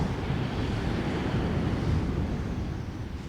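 Steady, loud wind roars across a seaside beach at Sutton on Sea during sea fishing, a dense unbroken rush buffeting the microphone with surf blended underneath and no voices.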